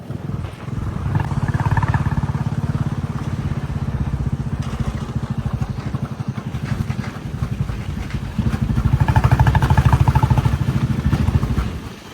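A JCB earthmover's diesel engine runs under heavy, steady load while pulling out an overturned tractor, a loud low rumble throughout that swells again toward the end, with no talk.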